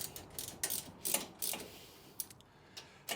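Metallic clicks and ratcheting taps from a bolt being tightened on a gutter-forming machine, a few sharp irregular ticks over about three seconds, close and fairly quiet, with no talking.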